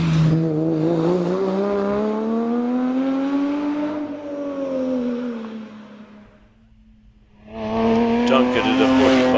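Much modified 3.9-litre Porsche Cayman on a hillclimb run at Prescott, a loud, close engine howl rising and falling through the gears, dropping away briefly before surging back hard, with a commentator talking faintly underneath.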